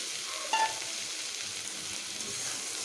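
Eggplant pieces that were fried earlier are stirred together with radish greens in a hot pan and fry on. There is a steady, close sizzle with a brief clink of the utensil near the start and no talking.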